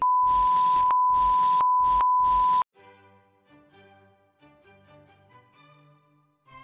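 A mobile phone sounds a loud, steady electronic beep in several pulses for about two and a half seconds, then quiet tonal music plays faintly.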